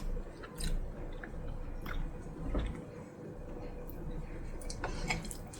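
Soft, close chewing and squishy mouth sounds come from someone eating kochu bhorta, a mashed taro mix, with hot rice, mixed with a few light clinks and quiet murmuring.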